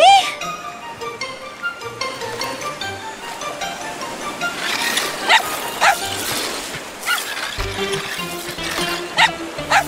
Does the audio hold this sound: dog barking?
yes